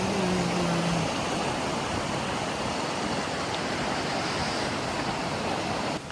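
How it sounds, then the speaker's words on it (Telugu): A small waterfall in Wales pours steadily, a dense, close rush of water holding constant from start to finish without a break. "ఇక్కడ చిన్న వాటర్ ఫాల్ దగ్గరికి అయితే వచ్చాం అనమాట."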